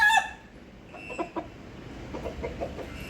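Soft, scattered clucks from a yellow-legged gamefowl rooster, an opening burst followed by several short, fairly faint calls over steady background noise.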